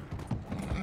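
Horse hooves clip-clop in the Western video game Red Dead Online, a brief, close run of quick, steady hoofbeats.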